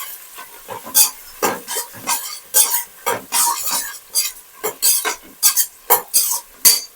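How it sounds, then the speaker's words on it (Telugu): A spoon scrapes and stirs chopped onion pieces in a pot while prawn biryani is cooked, making a steady rhythmic series of close, clattering strokes over a faint sizzle. "ఇప్పుడు కలుపుకుందాము."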